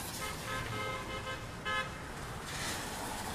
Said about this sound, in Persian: آره شبیه ماشین عروسن، اول بوق بوق میزنن و اینا.